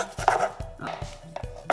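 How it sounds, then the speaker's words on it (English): Green onions are chopped finely with a knife on a board, giving four crisp, evenly spaced taps close up, with a faint rustle between strikes. "now we're gonna cut the green onions"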